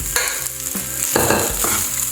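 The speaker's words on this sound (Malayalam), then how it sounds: "ഇനി നമുക്ക് നമ്മുടെ ഈ മിക്സ് ചെയ്ത് വെച്ചേക്കുന്ന ചോറ് ഇച്ചിരിയായിട്ട് അതിലേക്ക് ഇട്ട് കൊടുക്കാം" Mixed tamarind rice is tipped into a hot pan and stirred, producing a constant sizzle with repeated scraping strokes of the spoon, close and loud, with no talking.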